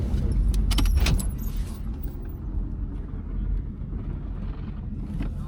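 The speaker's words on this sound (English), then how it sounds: "I'm just going to shut the car off and use first gear to bring myself to a complete stop." A car shut off on a race track at a track day and rolled to a stop in first gear, a low engine-and-drivetrain rumble that fades after an initial clatter, with wind noise and no speech.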